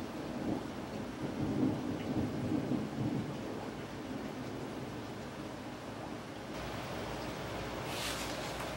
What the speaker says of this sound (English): a hell of a thunderstorm rolling through right now